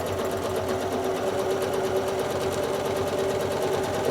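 A sewing machine runs steadily throughout, stitching straight lines on a nine-patch quilt block with a close, continuous whirring hum and no pauses.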